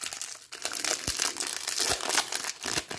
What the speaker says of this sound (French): Alors, un petit coup de cutter.